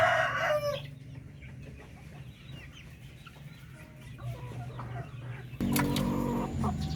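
Hens on a farm in the Philippines cluck and murmur continuously, with a louder burst of squawking or crowing at the start and a sharp noisy outburst near the end, no talking.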